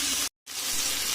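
Potatoes and fish hit hot oil in a pan with a loud, bright, hissing sizzle that breaks off briefly and then comes back steady and close.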